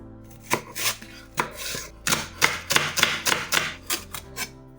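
A knife chops through a leek on a cutting board, about a dozen sharp, close taps in an uneven rhythm with short pauses between bursts.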